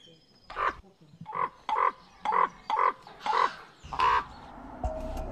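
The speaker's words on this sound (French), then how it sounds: "Dans son laboratoire, Markus Böckle analyse les cris des corbeaux" Wild ravens call in a series of about eight hoarse, croaking caws, spaced fairly evenly, moderately close and clear, with no voices.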